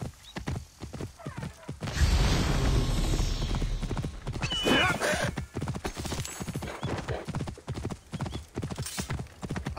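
A horse gallops in Assassin's Creed Origins, with loud rhythmic hoofbeats and a whinny over rushing in-game noise, and someone speaks briefly over it.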